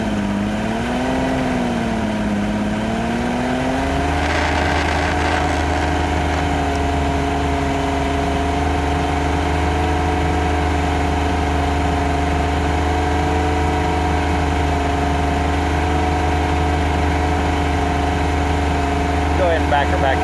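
A Chaparral boat engine idles in gear during a lake test, giving a loud, steady low drone with a slight pitch wobble near the start and a carburetor issue, and a voice speaks over it.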